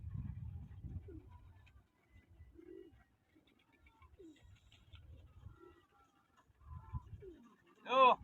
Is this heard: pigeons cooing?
yes